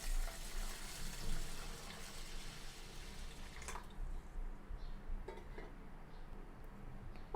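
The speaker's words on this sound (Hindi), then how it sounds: "अब हम इसमें पानी डालेंगे।" Water is poured into a bowl of rice as a steady, hissing splash that runs for several seconds, then gives way to a few faint drips and clinks, close and moderately quiet.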